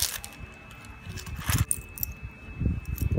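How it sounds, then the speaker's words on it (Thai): A keychain with five Totoro character charms jingles close by in a few soft, bright metallic clinks, with faint handling rustle between them. "เป็นพวงกุญแจที่มีตัวโตโร่แบบ5แบบ5คาแรคเตอร์ตอนนี้ก ็ห้อยกระเป๋าไปแล้วเรียบร้อยน่ารักสุดๆกริ๊งกรุ๊งกริ๊งเลยทีเดียว"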